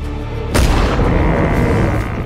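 A loud blast of gunfire from a movie trailer scene about shooting game to skin, hitting suddenly and then rolling into a dense, sustained roar with no one speaking.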